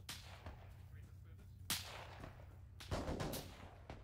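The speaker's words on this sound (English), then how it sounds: "Shots to northwest." Gunfire in the military video game ArmA 3, a few sharp distant shots with echoing tails, spaced irregularly over a low ambient rumble, with no voices.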